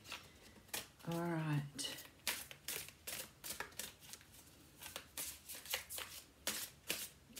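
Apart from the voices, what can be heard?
shuffling a deck of tarot cards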